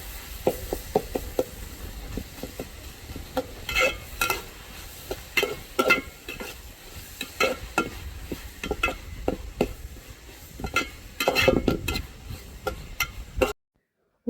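Tomatoes for biryani being stirred in a pan produce repeated spoon scrapes and knocks against the metal over a low sizzle, irregular in rhythm, close and fairly loud, ending abruptly in silence.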